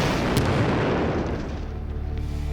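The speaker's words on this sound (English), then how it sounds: "I proclaim it my favorite ever MythBusters explosion." A large MythBusters explosion from a trail of ignited vapor, heard as a sustained loud low roar and rumble that slowly fades over a couple of seconds, with no voices.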